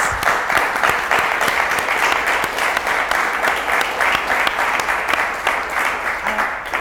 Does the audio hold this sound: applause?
yes